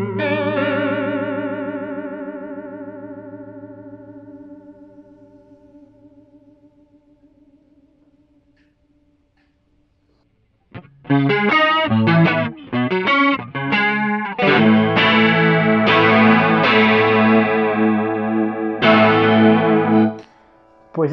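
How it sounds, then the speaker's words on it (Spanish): Electric guitar through a Warlus Audio Julia analog chorus and vibrato pedal: a wobbling chord rings out and fades over ten seconds, then after a pause a run of brisk chords and picked notes swirls with warbling modulation. "pues este es un chorus y vibrato análogos, muy utilizado, súper recomendado"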